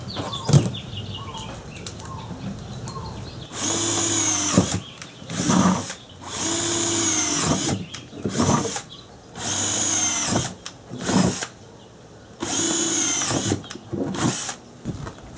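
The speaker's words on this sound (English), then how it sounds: "since this pot doesn't have any holes on the bottom yet, we're just going to drill those in" A power drill whines in several bursts of a few seconds each, loud and close, with short pauses between holes.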